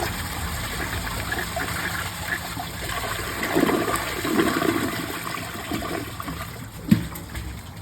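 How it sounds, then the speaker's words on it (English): Two socks go down as a comfort-height American Standard Cadet or Kohler Highline Class 5 toilet flushes, with a steady rushing gush of water, swelling surges midway, and a sharp gurgle near the end. "First test, 2 socks."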